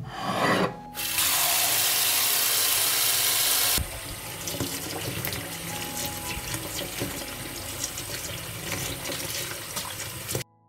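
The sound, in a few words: washing fresh blueberries under running tap water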